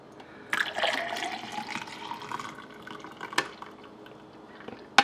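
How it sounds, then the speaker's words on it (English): Dollar Tree coffee syrup pours straight into a cup, a close liquid trickle that rises in pitch as the cup fills, then fades out, followed by a few light knocks. "I'm just gonna go ahead and pour directly into my cup"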